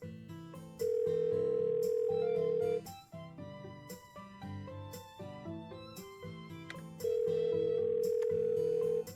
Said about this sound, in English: I pick up my phone from the counter and navigate to Sayori's contact.